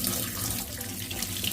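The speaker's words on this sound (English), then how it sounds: "Now we just need to wash the filter." Tap water runs steadily into a sink while an aquarium filter is washed, a continuous close hiss and splash with no speech.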